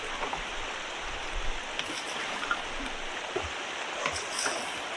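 Water sloshing and washing sand and gravel through an 8 mesh screen while gold panning, a steady close rushing wash with small splashes and trickles throughout, no talking.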